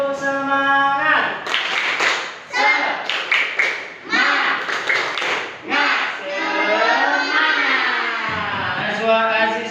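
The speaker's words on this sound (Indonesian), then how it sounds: "Sekali lagi, tepuk semangat." A group of children in a classroom claps a rhythmic spirit clap in short bursts, mixed with chanting and singing voices.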